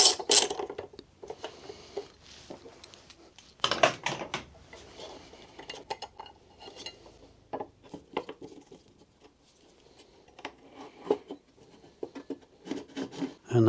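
An Allen key works a bolt loose during a SHAD SH23 pannier install on a motorcycle, giving scattered close metallic clicks, scrapes and ratcheting rubs of varying loudness with quiet gaps between them.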